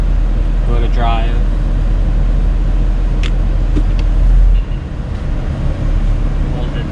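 An Infiniti G37 with an automatic transmission idles steadily at close range, a low constant engine hum with a few faint clicks and brief noises over it, easing off slightly near the end.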